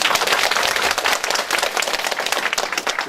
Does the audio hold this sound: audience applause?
yes